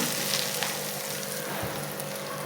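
Hot oil sizzles steadily as a tadka tempering for a Tibetan dumpling chilli sauce, a close, even crackling fry with small pops and no talking.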